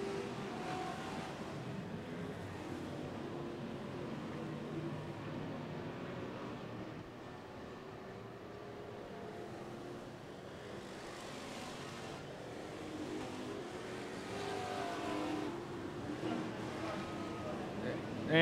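Several race cars running on an oval track at a championship points race produce a steady, blended engine drone from a mid distance that swells and eases as the pack bunches up and spreads out down the front stretch, with no talk.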